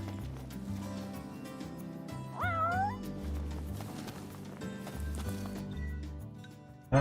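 A cat meows once with a rising, wavering cry in Final Fantasy XV, heard over game music and soft hoof-like clip-clop footsteps, fairly quiet.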